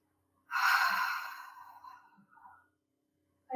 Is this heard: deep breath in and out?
yes